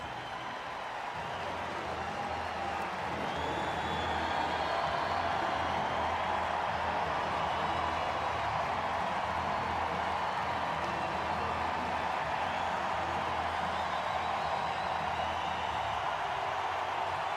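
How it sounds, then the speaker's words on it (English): A San Diego crowd at a Padres baseball game gives a returning player a standing ovation, a sustained, distant wash of applause and cheering that swells and then holds steady and faint. "That's Profar getting a standing ovation"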